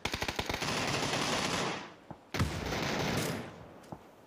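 Automatic rifle fire in a PUBG match, with a short rapid burst of shots followed by sustained loud gunfire and a second burst, close and dense, with no talking.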